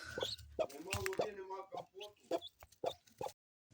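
Piglets on a village farm oink and squeal in quick, irregular bursts close by. Short harmonic grunts repeat through the moment, with brief pauses between calls.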